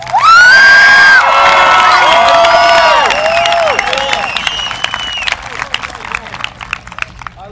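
Graduates at a high school graduation ceremony cheer, whoop and clap, with loud shouts and whistles up front that fade into scattered clapping and crowd noise.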